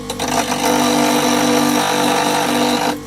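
A bench grinder sharpening a woodturning chisel, a loud continuous close grinding whine with a steady motor drone that cuts off near the end.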